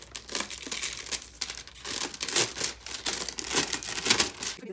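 Patterned transfer foil crinkling and crackling as it is handled and pressed onto a tumbler, a continuous close-up rustle with irregular louder bursts and no voices.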